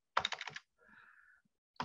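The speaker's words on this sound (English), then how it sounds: "I hear you typing." Keys clack on a computer keyboard in a quick, close burst of several strokes. A short pause with faint background sound follows, then another run of typing starts.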